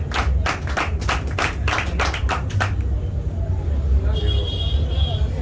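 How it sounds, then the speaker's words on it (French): Guests at the opening ceremony of a flat-hotel in N'djili, Kinshasa, clap for the construction team. Fairly close, distinct claps run for under three seconds and then stop, leaving a low rumble of outdoor background noise. "Je vous demanderai d'applaudir très fort"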